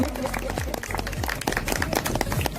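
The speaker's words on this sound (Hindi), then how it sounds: "एक बार जोरदार ताली से बिंदु बहन का स्वागत कीजिए आप लोग।" Audience applause welcoming a woman named Bindu to the stage at a gathering, with dense clapping from a crowd mixed with background voices and low hum, steady for a few seconds.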